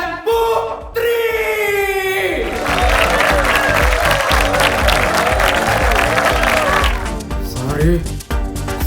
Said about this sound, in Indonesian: Beri tepuk tangan yang meriah untuk anggota baru Smanesta Model, Sari, Jessica, dan Putri